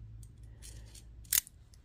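Screwdriver bits being loaded into a bolt action multitool pen, a few faint metallic clicks followed by one sharp snap, close and quiet, no talking.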